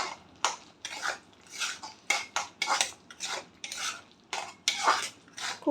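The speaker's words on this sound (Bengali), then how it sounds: "খুব ভালো করে এটা কষিয়ে নিতে হবে, একটু তেল ছাড়া মতো হবে" Chicken keema sautéing in a pan, stirred with a utensil in rapid repeated scraping strokes over a light sizzle, close and loud, without speech.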